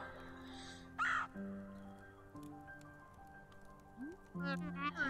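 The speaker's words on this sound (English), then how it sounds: "Crow!" A crow caws in the video game Celeste, a couple of short harsh calls over a soft, sustained musical backdrop with chiming tones, while a voice speaks briefly nearby.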